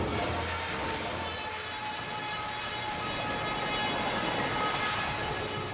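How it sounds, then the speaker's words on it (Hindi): A train passes at a deserted platform, a dense, steady rumbling roar with broadband hiss and faint tonal whine, holding at constant loudness without a clear approach or fade. "ट्रेन की आवाज आ रही है"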